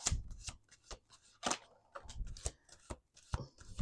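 Tarot cards being shuffled by hand, a rapid series of crisp riffling bursts and soft slaps, close and fairly quiet, with no talk over it.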